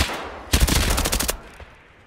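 Automatic gunfire in the shooter game Escape From Tarkov rattles out as a loud, close rapid burst lasting under a second, then fades into quieter background.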